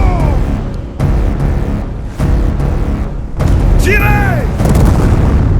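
Cannon artillery fire at the Battle of Austerlitz, Lannes's guns firing near the village of Sokolnitz: several heavy booms thud in succession over dense battle noise, with a short whistling streak near the end.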